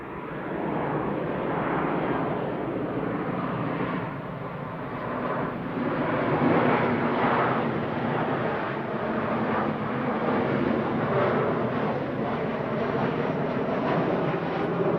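An Airbus A380 airliner roars in to land at Manchester Airport, its deep engine rumble and broad whooshing noise loud and sustained from close range without any speech.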